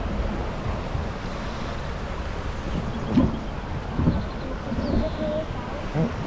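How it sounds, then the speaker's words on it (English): Water crashes and sprays around a boat on a splash ride at an amusement park, with a steady roar and several louder surges, overlaid by wind buffeting and the occasional shout from riders. "Really splashing."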